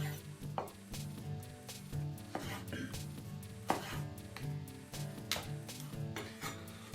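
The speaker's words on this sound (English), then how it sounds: "let's just cut this into pieces right now" A sharp knife chops an heirloom tomato into pieces on a cutting board, with steady, close knocks of the blade striking the board in a quick rhythm.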